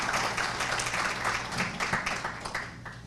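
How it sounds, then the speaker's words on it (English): An audience at a sustainability conference applauds the state representatives, a steady wash of clapping from a crowded room, moderately loud and continuous. "So I should give them a round of applause also."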